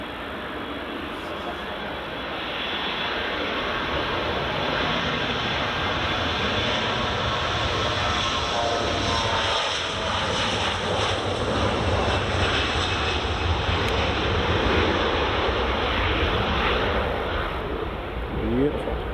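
Airplane passing a runway at Edinburgh Airport, a loud sustained jet roar that holds steady and swells slightly across the whole stretch, heard close and alone without talk.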